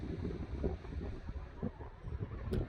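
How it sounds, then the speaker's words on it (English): Outdoor breeze buffets the microphone in uneven low rumbling gusts that swell and fade over a few seconds, with no speech. "It's a little breezy, I'm sorry."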